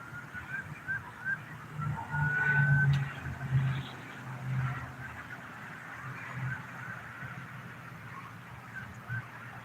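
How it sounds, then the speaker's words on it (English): A distant siren from a freeway accident wails faintly with a rising tone over the low rumble of passing road traffic, with no voices. "I hear more sirens."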